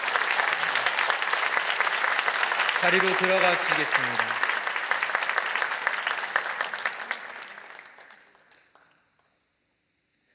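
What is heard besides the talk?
congregation applause at teacher appointment ceremony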